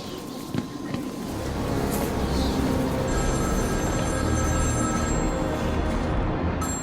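A telephone rings in Batman: Arkham City, its high electronic tones starting partway through and repeating steadily over a dense, rumbling game ambience.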